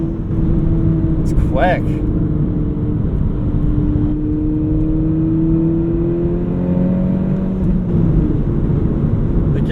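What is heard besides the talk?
modified VW Mk5 GTI engine revving with exhaust burbles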